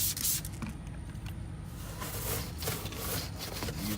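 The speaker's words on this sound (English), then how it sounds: "Spray a little more inside the wheel" Cleaner sprayed inside a car wheel in a series of short hissing bursts, close by, with faint scraping and handling noises between the sprays.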